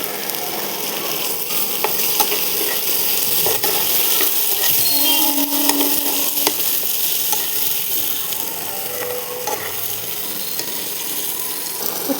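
Chopped tomatoes sizzle in a hot pan for an egg curry, a steady crackling fry with occasional scraping stirs, close and fairly loud, with no talking.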